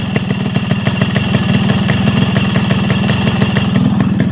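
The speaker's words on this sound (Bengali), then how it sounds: "ইঞ্জিনের সাউন্ড একটু শোনাই দেখেন কোনো বাজে সাউন্ড নেই" Yamaha RX115 motorcycle idling close by, a rapid, even two-stroke putter of regular pulses holding a steady loud level throughout, with no voices.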